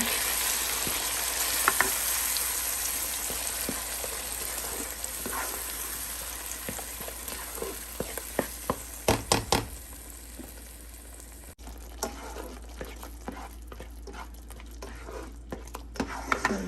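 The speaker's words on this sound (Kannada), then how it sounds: "ಒಂದು 2 ನಿಮಿಷ ಇದು ಹಸಿ ವಾಸನೆ ಹೋಗೋ ತನಕ ಸ್ವಲ್ಪ ಫ್ರೈ ಮಾಡ್ಕೊಳ್ಳೋಣ" Ground tomato paste frying and being stirred in a pan, a continuous bright sizzle with occasional scrapes and clatters of a utensil against the pan, close and steady throughout with no talk.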